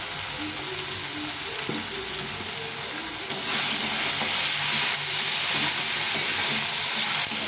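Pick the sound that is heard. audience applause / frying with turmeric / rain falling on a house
frying with turmeric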